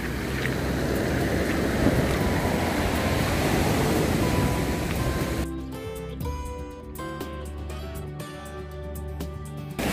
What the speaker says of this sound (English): Absolute massive waves. I'm walking along and the water's proper coming in.